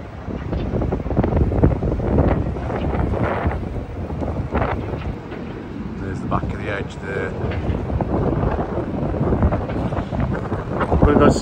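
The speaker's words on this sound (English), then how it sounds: "It's really, really windy up here," Strong wind buffets the microphone in a constant roar for several seconds, with no clear voices above it, high up on the High Line in New York City.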